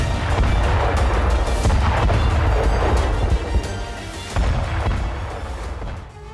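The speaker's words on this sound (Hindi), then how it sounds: "यूक्रेनी ड्रोन से बंकर में धमाका हुआ" A drone strike on a Russian bunker produces a loud, dense blast of booming rumble that holds for several seconds before easing off at the end.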